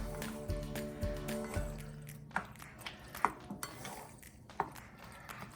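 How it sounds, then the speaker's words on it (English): A spoon tosses a pound of cooked pasta noodles with Parmesan, making soft wet squishes and light clinks of metal against the pot, fairly close and quiet. "we're gonna get our spoon and toss this"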